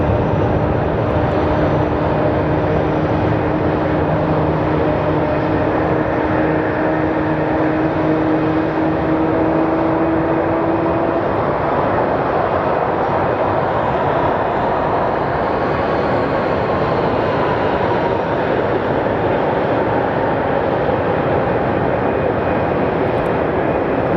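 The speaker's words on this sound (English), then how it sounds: "Watching this little CRJ push past the .737." A small CRJ regional jet taxis past a Boeing 737 at Sky Harbor Airport, its engines producing a loud, continuous whining drone with a slowly shifting tone that holds steady for the whole stretch.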